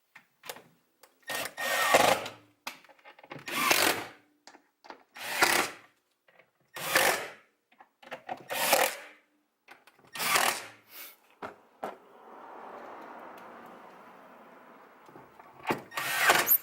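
A screw is driven into the back of a stereo mount in a Ford Focus ST, heard as a series of short, loud grinding bursts from a driver, about eight evenly spaced pulses with a softer rasping stretch near the end.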